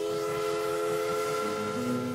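Tweetsie steam train running for a new season, a steady rumbling drone with sustained whistle-like tones, loud and continuous with no talk.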